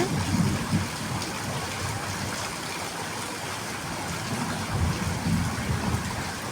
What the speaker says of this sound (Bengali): আজকে সারা দিন প্রচুর পরিমাণে বৃষ্টি হচ্ছে